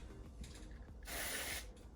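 Two short hissing bursts from a spray can of CowRC Electric cleaner aimed at sticky fingers: a faint brief spritz followed by a longer, stronger spray.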